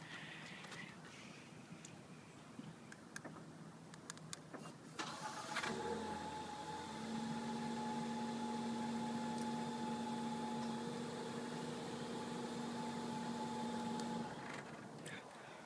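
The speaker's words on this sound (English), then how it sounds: "I'll go ahead and get an exhaust clip on startup" A 2013 Ford Fusion Titanium starts up, a quick crank then a quiet, steady idle from the exhaust with a faint whine, soft and close.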